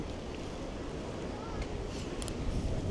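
Steady, heavy wind roars and buffets a microphone outdoors in Estonia, a broad rushing noise that swells slightly toward the end.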